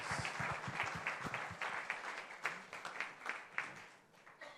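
Applause for award nominees at a corporate learning and development awards ceremony, a quiet scattering of claps, denser early and thinning toward the end, fairly distant and soft.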